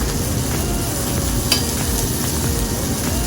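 Shrimp sizzling loudly in a hot frying pan, a dense steady crackle heard close up with one brief sharper pop, no voices.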